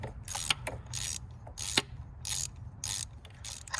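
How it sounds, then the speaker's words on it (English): A ratchet tightens an NGK spark plug on a Mustang GT, giving bursts of rapid metallic clicking strokes with short pauses between them, close and fairly loud. "start tightening the spark plug now"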